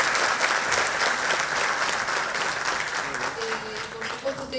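Audience applause for a popular historian at a Banco Provincia book and documentary event, steady dense clapping throughout with a murmuring crowd beneath.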